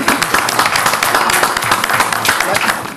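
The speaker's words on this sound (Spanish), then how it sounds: "aplausos." Steady, dense applause from a studio audience on a Spanish-language quiz show after a correct answer, loud and close, with the clapping blurring into a continuous wash; a voice speaks over it.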